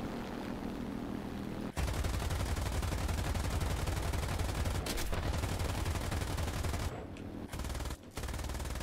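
Dense, continuous rapid aircraft cannon fire in a World War II German air combat video game, loud and sustained for several seconds with brief pauses near the end.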